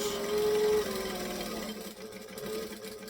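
A sewing machine runs steadily while stitching and back stitching, a close, even mechanical whir that eases briefly and then resumes, with no talking.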